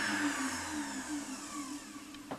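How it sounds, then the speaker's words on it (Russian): A blender grinds buckwheat with a loud, steady, high-pitched motor whir that holds even and unbroken for the whole stretch, close up and with no voices. "из той же самой гречки мы попробуем на блендере сделать сначала"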